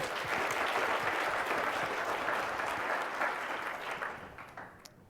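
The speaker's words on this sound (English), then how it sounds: "Give them a round of applause." A corporate event audience gives its sponsors steady, full-bodied applause that holds for a few seconds and then tapers off into scattered claps.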